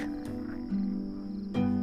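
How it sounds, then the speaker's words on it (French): Frogs croak in a short burst of night chorus, with steady insect-like trilling and a couple of louder calls close by. "les grenouilles dans la nuit"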